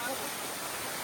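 A short, steady hiss of rushing water from the Avaraikulam waterfall, heard from just below the falls as a dense, even roar.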